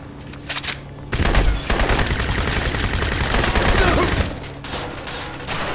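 Sustained automatic gunfire in the Crysis video game, a loud, dense burst of rapid shots lasting about three seconds, with quieter scattered shots and rumble before and after.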